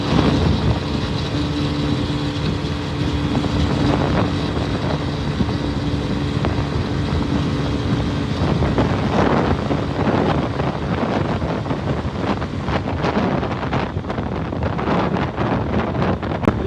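A Suzuki 150cc motorcycle cruises at speed along the Islamabad motorway, its engine drone steady beneath heavy, continuous wind buffeting on the microphone, with passing traffic blending in near the end.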